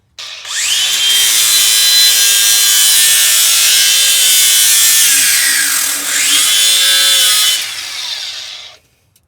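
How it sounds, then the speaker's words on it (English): An angle grinder cuts into the exhaust pipe of a Lexus GX470, a loud, continuous high-pitched whine that spins up, dips briefly in the middle, then winds down to a stop. "Grinder seems to be doing quite a job"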